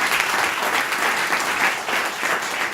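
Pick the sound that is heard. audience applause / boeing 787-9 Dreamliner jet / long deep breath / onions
audience applause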